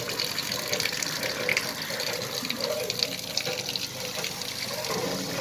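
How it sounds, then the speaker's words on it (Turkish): Water from a hand pump at a drinking fountain gushes and splashes in a steady, loud, continuous flow lasting several seconds, with no talk. "Bu el pompası"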